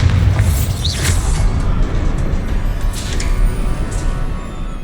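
A Bombarda spell explosion in Hogwarts Legacy, a deep booming rumble that fills the whole stretch, loud and sustained, with faint magical shimmer and crackle layered on top.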